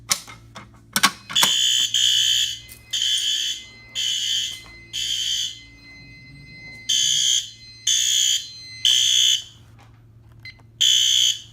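A fire alarm set off from a pull station during a test of a new system sounds in loud, evenly spaced electronic horn blasts with short gaps, following a few sharp mechanical clicks at the start, nearby and with no talking.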